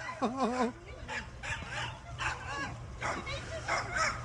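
A dog barks and yips in a played clip of a beaver attack, sharp bursts near the start followed by scattered whimpers and barks amid background voices.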